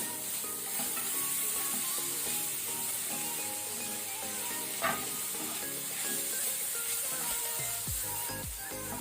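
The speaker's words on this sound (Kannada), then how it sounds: "ಈಗ ಇಲ್ಲಿ ಶುಂಠಿ ಬೆಳ್ಳುಳ್ಳಿ ಪೇಸ್ಟ್ ಫ್ರೈ ಆಗಿದೆ" Ginger garlic paste frying over a low flame in a pan for chicken franky gravy, a constant soft hiss of sizzling with occasional stirring scrapes and a short clank near the middle.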